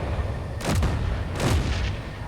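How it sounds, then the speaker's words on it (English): Turrets in a video game fire two heavy booming shots about a second apart, each with a sharp burst and a short rumbling tail over a low background drone. "the turrets are shooting each other slightly"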